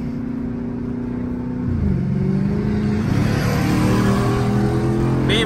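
A loud antique BMW with a big turbo diesel engine drones steadily as it accelerates. Its pitch climbs and swells after about two seconds into a stronger, rising roar, with no voices over it.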